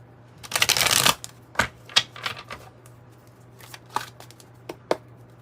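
A tarot deck being shuffled close up: a quick riffling burst of cards, then scattered taps and slides as the cards are squared and handled, no talking.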